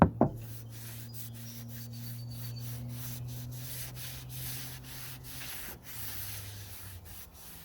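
Sanding on wood with a steady, continuous rub and a low hum underneath, close and even throughout, with no voices.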